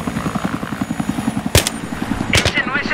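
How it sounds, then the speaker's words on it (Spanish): A helicopter in the Battlefield 3 video game thrums with fast, rhythmic rotor chops throughout, interrupted by a couple of sharp gunfire bursts, with a voice speaking over the action. "están como tres tíos del equipo mirando el helicóptero que está allí"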